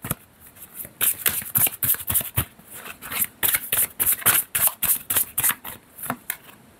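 Tarot cards shuffled by hand before an advice card is drawn, a steady run of crisp riffling flicks repeating in quick bursts, close and clear with no talking.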